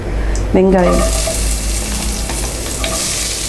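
Onions sizzle loudly in hot oil with spices for mutton dum biryani, a steady close frying hiss with a brief scrape of stirring near the start.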